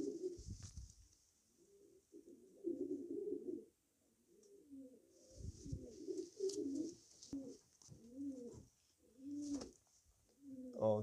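Young racing pigeons in a loft coo softly in repeated rolling phrases, some close and some further off, with brief gaps between calls and faint rustling.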